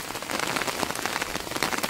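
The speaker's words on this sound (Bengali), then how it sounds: "আর বৃষ্টি হচ্ছে" Rain patters steadily on okra plants and surfaces, a dense, even pattering of drops close by with no voices.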